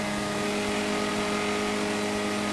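A Kawasaki Z1000 and a BMW F800 motorcycle rev and accelerate hard, a loud continuous engine drone with strong harmonic tones and wind rush throughout.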